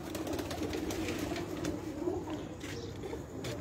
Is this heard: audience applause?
no